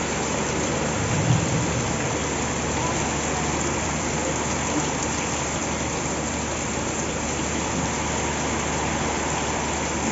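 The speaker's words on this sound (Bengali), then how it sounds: "ঝুম বৃষ্টি" A heavy, continuous downpour pours down around a village home during prolonged rain, a constant broad wash of falling water at a steady level with no voices heard.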